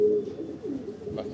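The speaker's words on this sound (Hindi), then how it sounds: "आज हमने ये वाला कबूतर बाहर निकाला है" A pet pigeon let out of its coop gives a short, low coo nearby, soft and alone against a quiet background.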